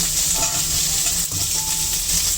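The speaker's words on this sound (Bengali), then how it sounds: "তাই পটল এবং আলুটাকে একটু ভেজে নিচ্ছি।" Potato and pointed gourd pieces fry with turmeric in a pan, giving a loud, continuous close-up sizzle with light stirring movements underneath.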